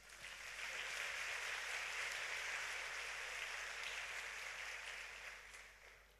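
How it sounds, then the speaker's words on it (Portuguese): A large congregation at an international Pentecost church congress applauds together in a sustained, even wash of clapping that swells in, holds steady and fades, heard faint and distant without voices. "Aplauda essa palavra."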